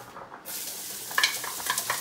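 Onion for clam spaghetti goes into a hot pan and starts frying, a soft sizzle beginning abruptly after a brief silence, with light stirring scrapes and clicks nearby.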